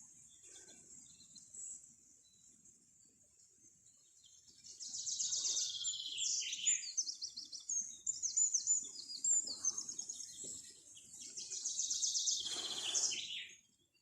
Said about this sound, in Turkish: Kuşlar ne güzel ötüyor arkadaşlar